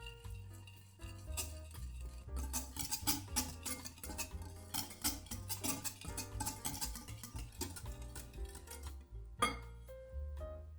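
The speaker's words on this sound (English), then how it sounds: "Mix well." A spoon clinks and scrapes steadily around a bowl as natural yogurt is stirred together with instant coffee, a quiet rhythmic tapping that runs without a break and ends in a few sharper knocks.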